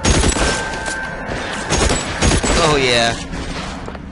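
Gunfire in the video game L.A. Noire, a rapid fusillade of shots cracking through a firefight alongside booming impacts, with someone talking over the shooting.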